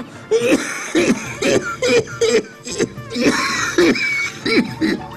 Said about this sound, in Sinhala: මම මේ බේත් පෙත්තක් තියනවා බීලා එනකන් මේ කරුම කැස්ස